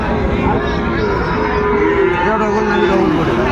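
Cattle lowing loudly and close by at a cattle market where Sahiwal bull calves are sold, several overlapping drawn-out moos filling the short stretch.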